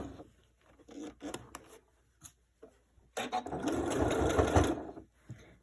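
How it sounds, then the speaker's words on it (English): Close-up sewing machine stitching around the edge of a fabric piece, with short stop-start bursts, then a longer steady run of rapid needle clatter, quiet overall. "Sew all around the edge."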